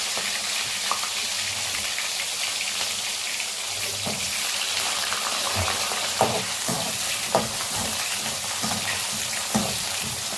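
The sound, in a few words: frying garlic and small onions in a pan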